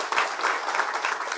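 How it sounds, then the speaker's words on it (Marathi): Loud applause from an audience at a Marathi political gathering welcomes a guest. It is a dense, continuous wash of clapping, heard alone with no talk. "जयभाऊंच्यासाठी जोरदार टाळ्या वाजवा"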